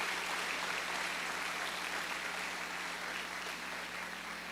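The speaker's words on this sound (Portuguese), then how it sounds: "Dê um aplauso ao Senhor." A church congregation claps together, a dense, even wash of applause filling the room at a steady level throughout, with no speech over it.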